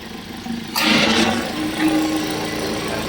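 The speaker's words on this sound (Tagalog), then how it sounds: "biglang may umingay na mag-on ng aircon" A sudden rush of blowing air from a Suzuki Ertiga's air conditioner kicks in over the running engine, then continues as a steady whir with the idle underneath.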